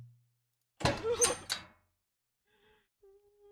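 Door opening in the horror video game Hush Little Lily, a brief creak and thunk burst lasting under a second, followed by faint quiet tones.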